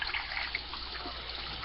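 Steady stream of tap water runs while hands are washed in a home kitchen during toddler cooking, a close, even trickle and splash with no voices over it.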